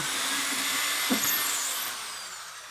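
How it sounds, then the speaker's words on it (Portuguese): An electric drill whirs steadily at close range, its motor dipping slightly in pitch as it bores, then easing off toward the end. "Aqui eu vou inclinar um pouco a máquina, a furadeira, para furar também."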